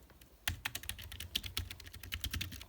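Rapid tapping of keys on a compact General Mobile e-tab4 Bluetooth tablet keyboard, a quick irregular stream of light clicks close up after a brief quiet start.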